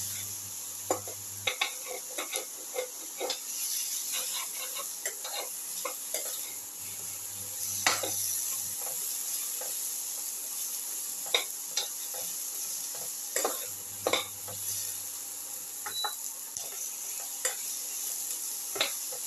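Salted onion pieces sautéing in a pan: a soft continuous sizzle broken by repeated sharp scrapes and taps of a utensil against the pan, close and fairly quiet.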